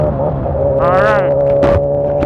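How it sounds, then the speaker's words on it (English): A motorcycle engine-braking on a Jamaican road gives off a steady, tonal droning hum, close and constant, with a brief voice and wind bursts over it. "you hear that little hum. That's the compression of the bike going down"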